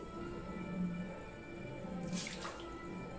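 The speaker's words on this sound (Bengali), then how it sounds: "আমি এটা জলটা আগে ফেলে দিই।" Water poured off washed chhena (cottage cheese) from under a pressed-down bowl, a soft splashing pour that swells briefly near the middle, with a small clatter at the very end.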